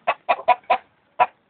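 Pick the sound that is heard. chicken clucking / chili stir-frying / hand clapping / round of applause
chicken clucking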